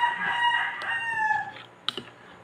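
A rooster crows loudly and close by in a long drawn-out call, followed by a few brief clucks and a sharp knock.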